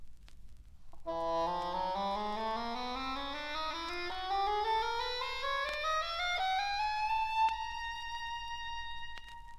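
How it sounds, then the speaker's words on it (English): A cor anglais plays a slow, smooth rising phrase of sustained reedy notes, solo and clear against a quiet background with faint surface hiss. "The oboe has a larger brother in the cor anglais."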